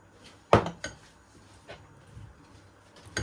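Squash puree, eggs and milk being mixed for bread dough in a bowl, with a sharp utensil clank against the bowl followed by softer scraping knocks and a final clink, close and without talk.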